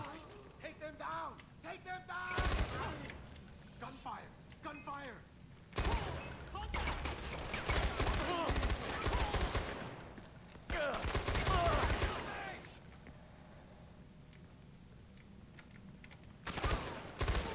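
Gunfire in the video game Far Cry 4, bursts of rapid automatic shots in several loud clusters separated by quieter stretches, with someone talking between and over them.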